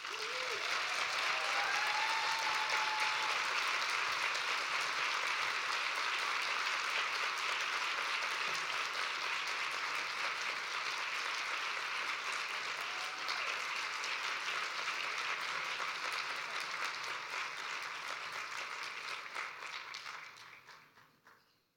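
Sustained audience applause at an academic award session of the Literacy Research Association, a dense, even wash of clapping that holds steady for about twenty seconds before fading out.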